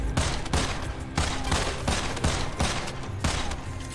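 Gunshots in the video game Immortal Redneck ring out loud and close in a steady volley of about eight blasts over a few seconds, with no talking.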